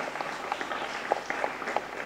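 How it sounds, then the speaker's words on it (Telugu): Audience applause at a Telugu devotional program honoring mothers: a steady wash of many hands clapping at moderate volume, with sharper individual claps popping out now and then across the whole stretch. "మన అందరం కూడా ఒకసారి కరతాళధ్వనులతో చప్పట్లు కొట్టి వారికి ధన్యవాదాలు తెలియజేద్దాం"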